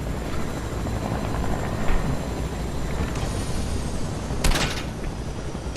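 A helicopter in the video game Fortnite whirs with a steady, loud rotor drone throughout, with a couple of brief sharp clanks partway through.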